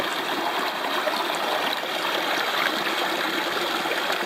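Stream water flows steadily through Coyote Gulch in Utah, a close, constant rushing trickle with no pauses.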